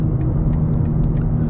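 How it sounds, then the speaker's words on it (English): A BMW G87 M2 with an M2CS tune sits at a standstill, its exhaust holding a steady, close, deep idle rumble with no voices. "I'm hearing the exhaust more sitting at a standstill than I did before"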